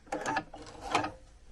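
A sewing machine runs in two quick bursts of rapid mechanical stitching while small pieces are sewn onto a fabric snowflake, close and fairly quiet.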